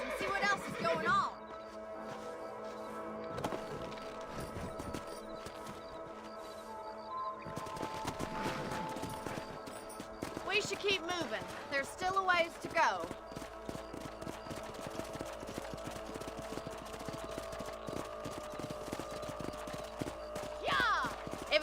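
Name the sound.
horses' hooves clip-clopping from the video game Red Dead Redemption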